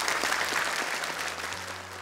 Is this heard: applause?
yes